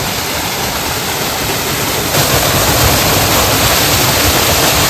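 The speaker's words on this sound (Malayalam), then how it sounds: "അടിപൊളി സ്ഥലമാണ് വെള്ളച്ചാട്ടം സൂപ്പറാണ്" A waterfall along the road toward Kambam roars as a steady, loud, broadband rush of falling water that swells slightly partway through and continues without any voices.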